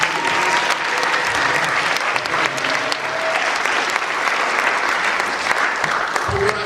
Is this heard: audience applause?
yes